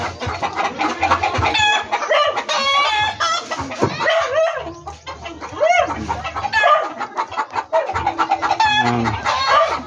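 A pullet hen clucks repeatedly while being fed in a backyard, with rooster crowing and other chicken calls mixed in, close and lively, and faint human talk in the background.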